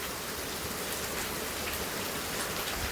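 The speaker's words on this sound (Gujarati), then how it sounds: "આજે આખો દી તડકો હતો છે પણ વરસાદ શરૂ થઈ ગયો." Evening rain falls steadily as a dense, even hiss of drops striking surfaces nearby, continuous and fairly loud with no voices.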